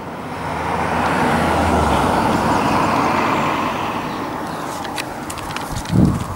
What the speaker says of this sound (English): Apart from another car.